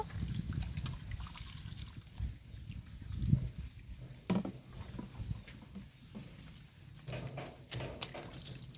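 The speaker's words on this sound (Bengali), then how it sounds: "এভাবে হাত দিয়ে ভালো করে ধুয়ে নেব।" Chopped chicken liver and gizzard are rubbed and rinsed by hand in water, with soft trickles, patters and occasional sharper splashes close up, fairly quiet and without talk.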